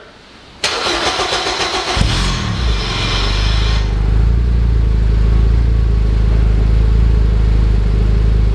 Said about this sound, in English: turn the key, slam the throttle